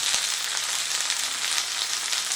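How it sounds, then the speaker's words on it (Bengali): Okra sizzles lightly in hot oil in a steady, close, continuous hiss, with a few faint stirring clicks and no voices. "ওইগুলোকে আমি তেলের মধ্যে দিয়ে দিচ্ছি। ভেন্ডিগুলো কিন্তু খুব বেশি ভাজবো না, হালকা করে ভেজে নেব"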